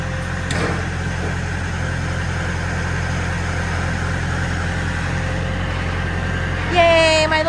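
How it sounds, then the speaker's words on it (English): A small tractor engine runs steadily throughout at a constant near level on a tarp-covered shed site, with a sharper mechanical sweep rising near the end. "Yay, my little baby tractor did it."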